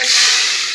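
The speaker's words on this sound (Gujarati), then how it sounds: "બટેટા વટાણા અને ડુંગળીનો વઘાર કરશું" Potatoes, peas and onion sizzle loudly in hot oil for a tempering, a steady bright hiss close up with no voices.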